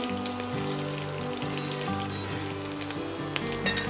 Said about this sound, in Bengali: আলুগুলো হালকা করে ভাজা হয়ে গিয়েছে, এবার আমরা এটাকে তুলে নেব।